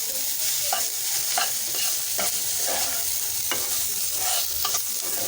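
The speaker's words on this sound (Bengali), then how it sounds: "এখন এটাকে আমি ভালো করে ভেজে নেব।" A spiced mixture fries and sizzles in a pan while being stirred with garam masala powder, a constant bright hiss broken by a few sharp scraping strokes of the spoon, close and without talk.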